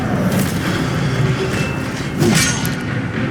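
The disarming spell Expelliarmus is cast during combat in the video game Hogwarts Legacy, a dense rumbling magical blast with a thudding impact swelling partway through amid continuous battle noise.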